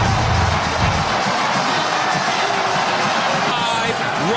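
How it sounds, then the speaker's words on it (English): A huge crowd at Michigan Stadium roars during a 2021 college football game against Ohio State, a loud sustained wall of cheering and yelling that never lets up. "Listen to this crowd at Michigan Stadium."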